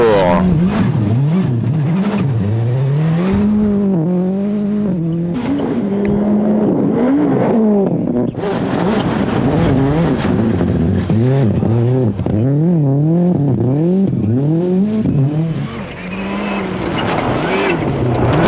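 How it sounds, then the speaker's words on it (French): Toyota Celica GT4 rally car on an Arctic Rally stage in 1999, its engine revving hard and swooping up and down through narrow bends, loud and continuous, with a commentator talking over it. "Yuko Puaka en difficulté dans les virages étroits de cet Arctic Rally avec une Toyota Celica GT4"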